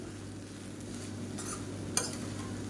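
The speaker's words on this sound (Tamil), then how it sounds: "நல்லா எல்லாமே மிக்ஸ் ஆகிற மாதிரி கலந்து" Cooked rice is stirred together with capsicum masala in a pan, a soft low scraping with faint frying hiss and one brief utensil clink, quiet and close.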